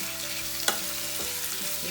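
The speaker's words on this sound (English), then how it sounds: "Saute it for around 2 minutes." Capsicum and other vegetables for veg hakka noodles sauté in a pan with a continuous close sizzle, while a utensil scrapes and stirs now and then, one sharper clink standing out, and no talking.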